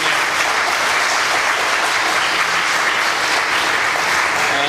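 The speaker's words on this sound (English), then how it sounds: "you haven't heard the great clapping" Steady, dense applause fills the room from a conference audience, loud and continuous from start to finish with no voices rising above it.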